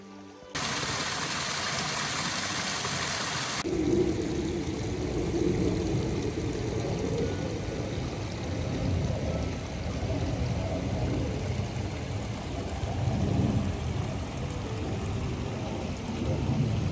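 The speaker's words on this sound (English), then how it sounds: "Sorry about the planes here, this must be a flyover zone." Airplanes flying over a mountain lake area near a waterfall, heard as a loud, steady broadband roar that starts abruptly and then settles into a deeper continuous rumble with slow swells, persisting throughout with no voices.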